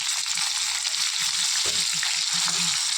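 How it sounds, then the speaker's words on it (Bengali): Whole cumin (five-spice tempering) and green chillies fry in hot oil for a potato chorchori, a continuous close hiss and sizzle with small crackles and pops throughout. "দেখো 5 ফোড়নের গোটা জিরে দিলাম, কাঁচা লঙ্কা দিলাম।"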